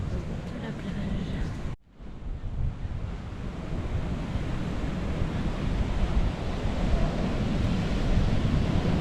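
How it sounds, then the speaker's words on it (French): Ocean surf rolling onto the beach at Grand-Bassam, a loud, constant wash of waves mixed with heavy wind buffeting the microphone, with a brief dip in the roar early on. "De la plage."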